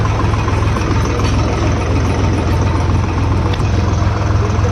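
A tractor engine idles and rumbles steadily at a busy market, a loud continuous low chug with faint crowd noise beneath.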